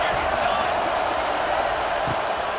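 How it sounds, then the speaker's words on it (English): A stadium crowd in the college football video game EA Sports College Football 26 roars as a steady, loud wash of noise with no break. "This crowd bringing the energy and noise early."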